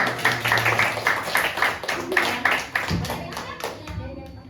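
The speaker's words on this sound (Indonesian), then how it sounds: "Tepuk tangan dulu." Children clap their hands in a classroom, a quick run of sharp claps repeating in bursts over several seconds, with kids' voices and chatter mixed in close by.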